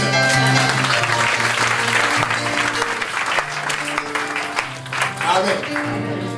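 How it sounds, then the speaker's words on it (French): Congregation clapping during a church service, a dense steady wash of applause mixed with voices and sustained musical tones underneath, loud and continuous throughout. "Acclamons le Seigneur."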